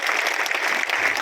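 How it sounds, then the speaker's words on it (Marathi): Loud, dense applause from a live audience at a Shivaji Jayanti celebration concert, greeting a singer; continuous clapping throughout. "एकदा जोरदार टाळ्या त्यांच्यासाठी"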